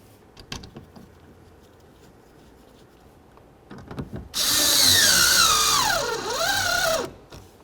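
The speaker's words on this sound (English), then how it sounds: "start in all three of your bolts and then snug them up" A power drill spins up loudly and runs for about three seconds, its pitch dipping and rising as it snugs bolts on a 2006-12 Ford Fusion window regulator, after a few quiet clicks and taps.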